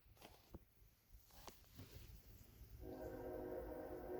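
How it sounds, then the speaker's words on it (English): A CSX locomotive's K5 air horn sounds from a distance over rumbling freight train noise in Connersville, Indiana, its chord swelling and holding steady toward the end. "Nothing like the sound of a K5 LA horn"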